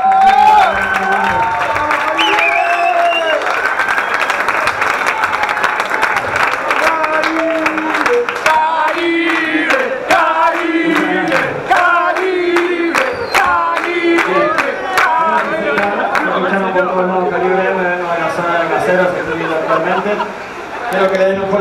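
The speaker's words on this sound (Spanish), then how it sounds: "A ver, quiero escuchar ese aplauso fuerte para todos." A concert crowd at a Calibre M show in Asbury, Flores cheers, shouts and claps continuously, loud and dense throughout, with many voices yelling and chattering over scattered clapping.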